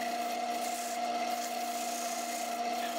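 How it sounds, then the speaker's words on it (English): A wooden platter spinning on a woodturning lathe is sanded, giving a steady, even rubbing hiss over the motor's constant hum, close and unbroken with no pauses. "So I finished sanding my new platter"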